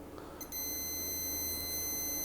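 A Radio Shack retro LCD handheld game gives off a steady electronic beep tone that starts after a brief quiet moment and holds on continuously at a loud, close level.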